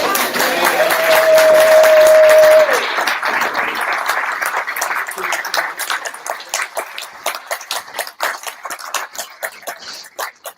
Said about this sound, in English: We have a nice round of applause for Val.